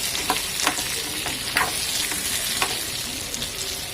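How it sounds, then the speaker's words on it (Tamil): Mustard seeds spluttering in hot oil in a pan while making Tirunelveli-style tomato chutney, a dense continuous sizzle broken by sharp popping crackles, close and fairly loud. "இப்போ பாத்திரத்தில் எண்ணெய் கடுகு நல்லா பொரிஞ்சது."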